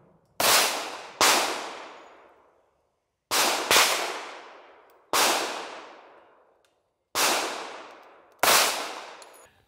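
Six sharp pistol shots from a Savage 1911, fired in uneven pairs and singles with short pauses, each a loud close crack followed by a quick fading ring.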